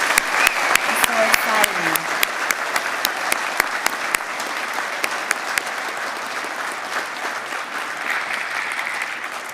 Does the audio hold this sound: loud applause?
yes